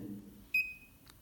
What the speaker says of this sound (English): so you can hear a beep sound